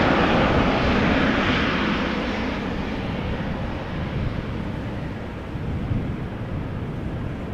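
A KLM airliner bound for Las Vegas taxis at Amsterdam Schiphol Airport, its jet engines giving a steady, loud, broad roar that holds evenly throughout.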